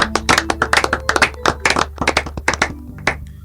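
A church congregation claps along during a radio service, a fast rhythmic run of claps for several seconds over a steady low hum, with voices faintly mixed in.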